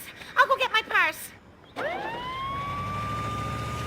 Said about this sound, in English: Brian, call an ambulance